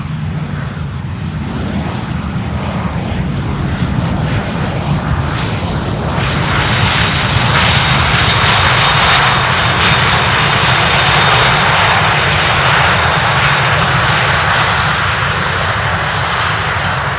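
An airliner at Amsterdam Schiphol Airport gives a loud, steady engine roar that swells noticeably about a third of the way through and then holds at full strength.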